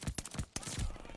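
A Whitley submachine gun fires in Call of Duty Vanguard, giving a quick burst of several rapid, punchy shots in a tight rhythm.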